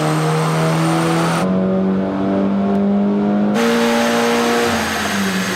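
A Seat Leon Cupra on a dyno at base settings with wastegate boost only, its engine held at high, steady revs with a droning tone that steps up in pitch, loud and close, with no voices.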